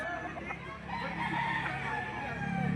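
Chickens cluck and a rooster crows among caged fowl at a Saturday livestock auction market in Lipa, Batangas, the calls layered over a constant crowded background hum.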